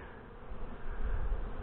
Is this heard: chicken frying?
no